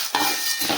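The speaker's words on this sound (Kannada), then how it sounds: "ಚೆಂದಾಗೆ ಮಿಕ್ಸ್ ಮಾಡ್ತೀನಿ ನೋಡಿರಿ." Chakli dough ingredients with cumin and ajwain being stirred and mixed in a bowl, a brief soft scraping rustle heard twice, close and alone.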